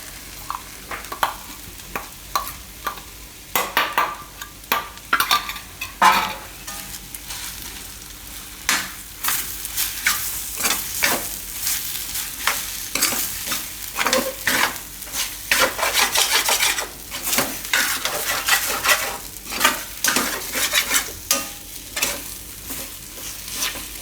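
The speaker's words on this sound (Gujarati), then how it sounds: "આમાં આપણે નાખી દઈશું આ વટાણા અને મરચાં અને બધું પીસેલું" Ground green peas and green chillies fry in a pan as filling for pea and potato parathas, with a loud continuous sizzle and repeated close scraping stirs from a spoon throughout, with no talking.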